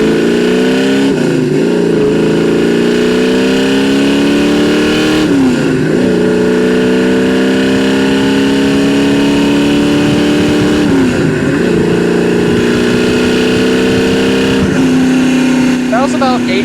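A 1967 Chevrolet Camaro accelerates hard on throttle, its engine note climbing steadily through repeated gear pulls, each rise broken by a brief dip at the shift, loud and close with occasional talk underneath.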